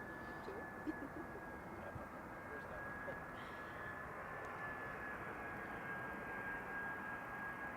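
A 15-year-old easyJet Airbus A319 arrives at Amsterdam Schiphol from Copenhagen, its jet engines making a steady broadband roar that holds evenly for the whole stretch and sounds moderately distant.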